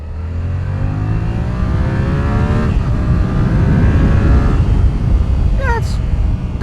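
A Yamaha R7 motorcycle accelerates hard, its engine note climbing steadily in pitch through the gears with loud wind rush, heard close from the rider's position, with a brief high chirp near the end.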